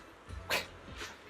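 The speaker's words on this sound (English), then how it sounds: "The cocky little dog barks loudly a few more times, mixed with some impatient sneezes." A cocky little dog in Zenless Zone Zero gives a few short barks and an impatient sneeze, the sneeze a sharp burst in the middle with a softer yelp near the end, fairly close and alone.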